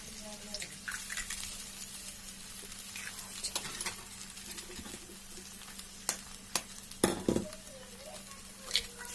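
Three eggs fry in oil in a pan, a soft steady sizzle running beneath scattered clinks and scrapes of a utensil against the pan, with a few sharper knocks near the end.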